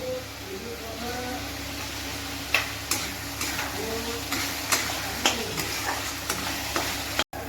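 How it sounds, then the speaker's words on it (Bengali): Fried potatoes go into a sizzling spice paste in a pan for a katla fish curry, a steady frying hiss punctuated by regular sharp clacks of a spatula against the pan. "এখন আমি এই মশলাটার মধ্যে আলু ভাজাটা দিয়ে দিব"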